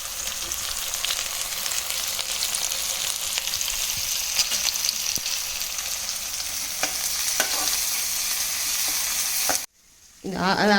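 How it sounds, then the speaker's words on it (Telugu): Onions frying in a pan before red amaranth leaves go in, a dense, continuous close sizzle with occasional stirring scrapes, cutting off abruptly near the end. "ఎర్రగడ్డలు మగ్గినాయండి."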